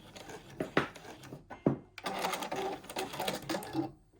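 Sewing machine running bursts of stitches forward and back over a zip, with short stop-start runs of rapid needle clatter growing into a longer continuous stretch.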